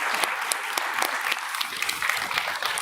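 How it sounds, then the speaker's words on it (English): Audience applause for a panel at an anniversary research conference, brisk scattered clapping from a moderate-sized room, fairly close and sustained throughout. "Please join me in extending an applause to this wonderful panel."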